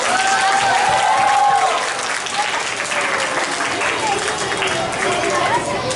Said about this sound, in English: Let's welcome our judges with a big round of applause.